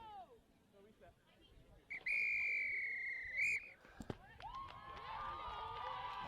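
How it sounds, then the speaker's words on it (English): At a collegiate rugby match, a referee's final whistle sounds as one long shrill blast with a short follow-up, over crowd noise and distant voices from the outdoor pitch. "Never mind as the final whistle sounds,"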